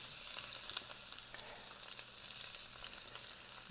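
A hot frying pan sizzles quietly and steadily, a soft continuous hiss of frying with no talking over it.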